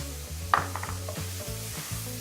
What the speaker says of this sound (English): now I'll add my shallots